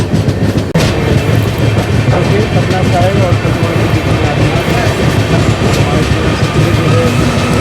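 A passenger train runs out of Banka Ghat railway station on the Patna to Rajgir line, with a steady loud rumble and rhythmic rail clatter heard from on board, continuous throughout.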